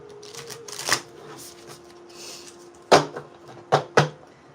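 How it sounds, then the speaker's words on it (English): A deck of cards being shuffled at a table, with soft riffling and light tapping followed by several sharp, close snaps near the end, plus a faint steady hum in the background. "just gonna go ahead and shuffle my decks while I wait for someone to show up"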